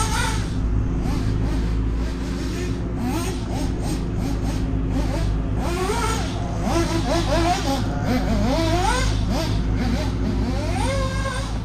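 A nitro RC car engine runs loud and buzzing, its pitch rising and falling as it is revved and driven around, with people talking over it.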